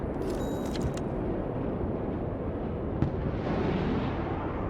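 Ballistic missile volleys in the Broken Arrow war game detonate as a dense, continuous rumble of blasts, with a sharper single crack partway through and heavy low-end roar throughout, no voices over it.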